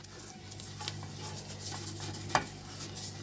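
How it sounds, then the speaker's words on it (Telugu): A cut onion rubbed across a hot griddle pan before batter goes on, giving faint scraping strokes and a soft, low sizzle with one sharper scrape, quiet and close. "ఇలా కట్ చేసుకొని కొద్దిగా ఇలా రుద్దండి ఉల్లిపాయతో పెనాన్ని"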